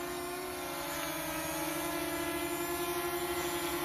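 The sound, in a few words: quadcopter drone propellers buzzing in flight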